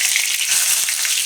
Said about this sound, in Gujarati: એકદમ તેલ ગરમ થાય પછી રાઈ નાખવાની.